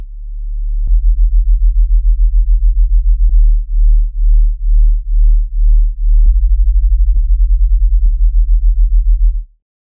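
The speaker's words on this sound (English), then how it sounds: "We now have a sub bass in its most basic form." A deep, steady sine-wave sub bass drones alone, pulsing in repeated sustained notes with faint clicks at note changes.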